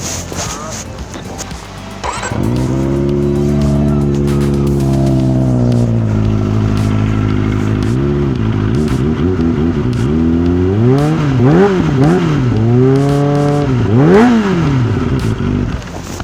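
A Kawasaki ZX-25R sport motorcycle with an Akrapovic exhaust idles, then revs hard several times with a loud, throaty exhaust roar rising and falling close by.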